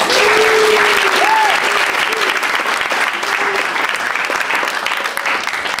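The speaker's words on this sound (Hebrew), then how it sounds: "מחיאות כפיים" Audience applause fills a school hall after a children's end-of-year performance of The Emperor's New Clothes, steady dense clapping throughout with a few faint voices mixed in.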